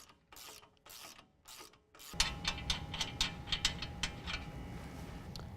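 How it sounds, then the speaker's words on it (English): Ratchet with an 18mm socket removing the lower strut nuts on a 2015–17 Ford F-150 4WD during a 6-inch lift kit install: a few bursts of turning, then a rapid, close, clicking ratchet run. "So now we're going to use an 18mm to remove the 2 nuts that's holding on the lower strut."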